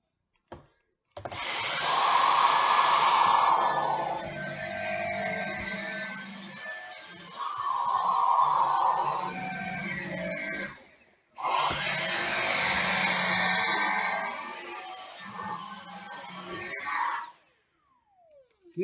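Dyson vacuum cleaner cleaning up a job site: a loud, steady whining motor roar that rises and falls as the nozzle moves, cuts out briefly, restarts, then stops, with no voices.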